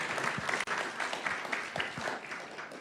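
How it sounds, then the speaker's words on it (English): A lecture audience applauding at a local history society talk, a soft, steady patter of many hands clapping throughout, fairly distant and moderate in level. "One more round of applause for Dr."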